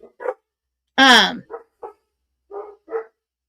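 Dogs shut indoors barking in a short, irregular run: several clipped woofs and yips spaced apart, one longer loud howling bark near the start, fairly close with silence between.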